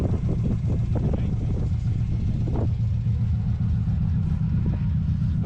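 A tank at a Scottish transport show in Glamis rolls past close by, its engine giving a loud, steady, deep rumble that fills the whole stretch with a few rougher surges, and a voice may be faintly audible under it.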